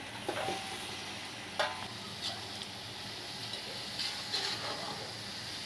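Beef frying in a spiced masala in a pot for yakhni pulao, a steady close sizzle with a few sharp scraping stirs and light clinks of the spoon against the pan.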